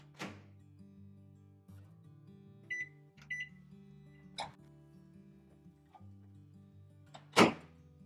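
A microwave oven melts mozzarella and cream cheese, humming low and steady, with a couple of short electronic beeps, a soft thunk and a louder knock near the end.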